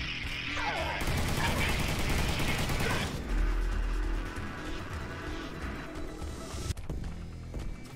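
Rapid machine gun fire in the video game Furry Apocalypse, a retro-style shooter, with a continuous rattling stream of shots under game music and effects for most of the clip.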